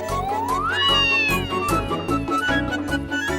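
A cat gives one long, loud rising meow that bends and fades over a busy music backing in a Hindi fantasy TV show.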